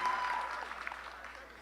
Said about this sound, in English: A big round of applause to our magna cum laude honorees.